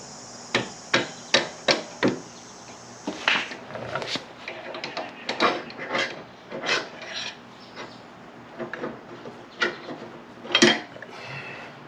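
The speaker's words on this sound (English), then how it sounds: "Now I'm going to put my screwdriver back in the axle and tap it out with a rubber mallet on the left side." A rubber mallet taps a screwdriver to drive out the front axle of a Harley-Davidson touring motorcycle, giving a quick run of sharp, close knocks followed by irregular scraping and clattering taps, with no talking.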